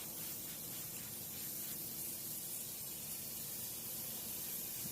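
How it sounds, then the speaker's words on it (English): Steady broadband hissing of a spray bottle misting a car door window during window tinting, continuous and close, with no talking. "And next we'll spray down the window."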